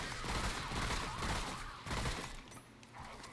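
Gunfire in the video game Remnant: From The Ashes, a boss fight against the Canker: a dense, fairly quiet stretch of shots and impacts that runs without a break, with a brief crackle near the end.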